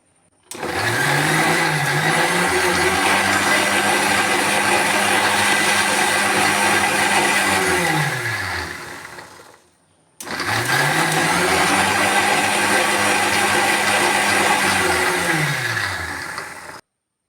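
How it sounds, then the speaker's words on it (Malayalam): An electric mixer grinder blends grated coconut in its jar for a jackfruit-seed and tomato curry, with two loud, steady whirring runs of about eight seconds each. Each run spins up quickly and winds down, separated by a brief pause. "ഞാൻ മിക്സിയുടെ ജാറിലേക്ക് ഈ തേങ്ങ അടിക്കുമ്പോൾ ഇട്ട് കൊടുക്കുന്നുണ്ട്"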